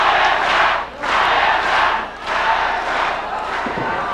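A wrestling crowd at an FMW event chants in loud, swelling waves, roughly three rhythmic surges of massed voices, close and filling the space.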